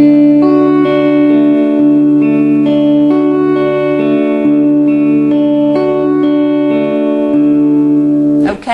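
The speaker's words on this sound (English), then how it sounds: "So just have a go at plucking those strings again." Guitar strings plucked one by one in a repeating chord pattern, an even arpeggio that is loud, close and clear, looping smoothly for about eight seconds.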